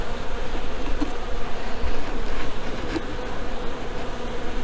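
Honeybees hum steadily around a healthy hive with a laying queen on a farm, a close, continuous droning buzz that holds level the whole time with no talking.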